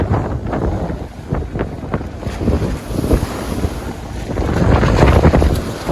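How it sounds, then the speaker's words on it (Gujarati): Strong wind buffeting and roaring against the microphone outdoors on the coast at Porbandar during fishing, gusting louder toward the end, with no speech. "પવન તો એટલો જ છે."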